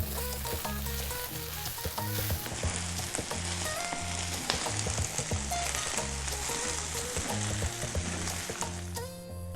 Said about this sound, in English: Let's get the cilantro or coriander. Let's also get all of those lovely green or spring onion tops. I'm going to stir that in.